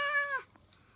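A pet cat gives one short, clear, tonal meow up close. After it come faint soft noises and quiet.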